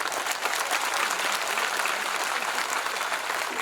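Audience at a Sardar Patel birth anniversary celebration in Etawah breaks into dense, steady applause, a continuous wash of many hands clapping close by with no voices over it.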